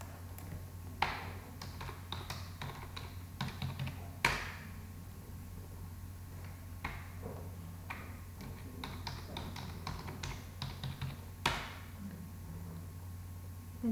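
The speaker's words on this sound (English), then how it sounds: "So I am typing the valid email ID" Keys on a computer keyboard are tapped in quick irregular bursts with a few louder single clicks as an email address is typed, faint against a steady low hum.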